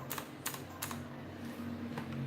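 Computer keyboard keys are pressed on a system being tested, a few sharp clicks spaced irregularly over a steady low hum, quiet and close.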